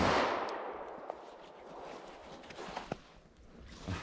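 A 10mm revolver firing a .45 ACP+P Remington Golden Saber round at a ballistic gel target: one sharp report at the start that fades into a long echoing decay, followed by a few faint clicks and handling sounds.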